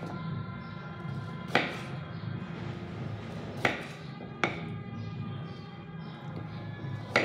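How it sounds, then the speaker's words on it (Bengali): A knife cutting potatoes into long pieces on a board, giving a few sharp, isolated chops spaced seconds apart over a steady low background hum. "সবগুলো আলু এভাবে লম্বা লম্বা করে কেটে নেব।"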